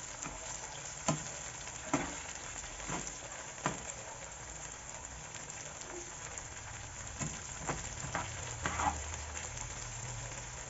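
Whole tofu fries in oil with a steady soft sizzle, scattered with sharper pops and spatters every second or so, close and continuous.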